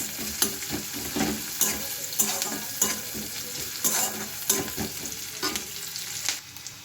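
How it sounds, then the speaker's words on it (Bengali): Onion and garlic fry in a pan with a steady crackling sizzle, broken by repeated scraping stirs and clinks of a spatula at a close, even loudness. "পেঁয়াজটা দিতে ভালো করে ভাজবো"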